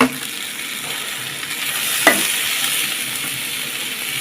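Tomato frying in a pan for egg curry gives off a steady, close sizzle, with a single metallic clink from stirring partway through.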